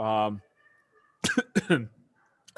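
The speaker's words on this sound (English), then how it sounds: "Sorry, I coughed." A single short cough comes at the start, followed by someone speaking in short bursts during an informal talk.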